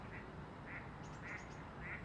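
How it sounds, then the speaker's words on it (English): Tufted ducks on a fishing lake give four faint, evenly spaced quacks over a steady low background hum, with a brief higher chirping burst partway through. "I will add the tufty birds they are, not coots, tufties"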